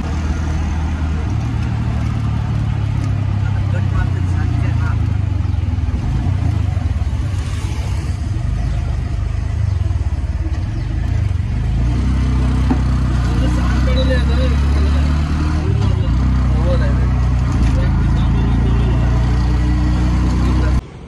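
A vehicle engine drones steadily throughout, with rumbling road noise and some faint voices underneath, heard from inside a moving auto rickshaw.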